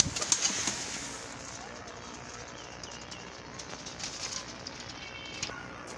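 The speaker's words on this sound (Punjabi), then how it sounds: "ਬੜਾ ਅੱਛਾ ਸਟੈਂਡ ਇਹਨਾਂ ਕਬੂਤਰਾਂ ਦਾ" A loft of Ferozpuri highflyer pigeons in Lahore, heard as soft cooing and brief wing flutters that are loudest at the start, then a quieter murmur with faint background activity.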